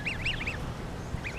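Canada geese honk in a quick run of four nasal calls, then one more after a pause, moderately close over a steady outdoor background.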